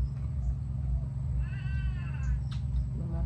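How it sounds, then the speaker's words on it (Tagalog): A cat gives a drawn-out, wavering meow over a steady low hum, with a brief chirpy sound near the end, in a home kitchen at lunchtime. "Mga pusa na yan."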